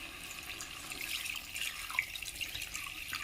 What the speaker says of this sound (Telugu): ఇందులో రెడీ చేసుకున్న చింతపండు రసాన్ని కూడా పోసుకుంటాను.